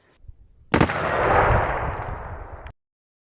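A rifle fitted with a forced reset trigger fires a sharp, loud double report, followed by a roaring, slowly fading blast and echo that cuts off after about two seconds, with no talking.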